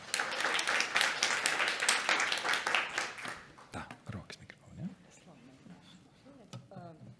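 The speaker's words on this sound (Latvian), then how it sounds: "Sagaidām ar aplausiem!" Audience applause welcoming a speaker from an anti-corruption bureau at a whistleblowing event, dense clapping for about three seconds before thinning into a few scattered claps, followed by a voice speaking.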